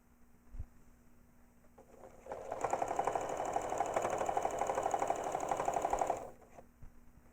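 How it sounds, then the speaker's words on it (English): APQS quilting machine stitching the binding onto a quilt, running steadily for about four seconds with a rapid mechanical rhythm after a brief start, loud and close, with no talking. "So I'm going to sew a little bit farther."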